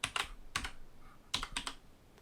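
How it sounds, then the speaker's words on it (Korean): Keys clatter on a computer keyboard in a few quick bursts of clicks with short pauses between, close and moderately loud, with no talking. "엔터 키를 누르면 그린, 그 다음에 엔터 키를 누르고 이름을"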